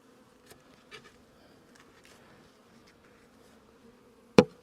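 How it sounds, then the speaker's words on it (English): Honey bees buzzing around honey supers on a beehive, a soft continuous hum close by, with a sudden sharp knock near the end. "So all these bees are on here."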